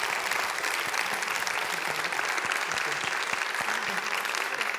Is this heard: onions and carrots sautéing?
no